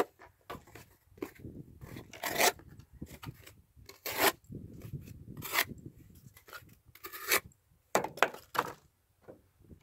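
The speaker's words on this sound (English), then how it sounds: "That's absolutely good slicing performance." Bestech Swordfish knife with a thin, aggressive flat-grind blade slicing material, a series of short raspy rubbing strokes, close and fairly quiet, with small thunks between cuts.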